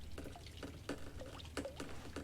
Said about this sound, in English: There's water coming down.